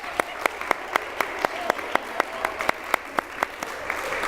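A small group in a workshop session claps for another group, a sparse, fairly regular run of sharp individual claps rather than a full crowd roar.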